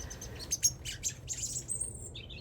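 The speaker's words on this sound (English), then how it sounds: "While I work, a pair of robins take an interest." A pair of robins chirp and tweet nearby in a garden, with short bright calls in quick irregular bursts over a quiet background.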